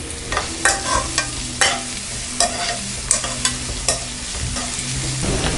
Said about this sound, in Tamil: வெங்காயம் நல்லா வதக்கிட்டோம்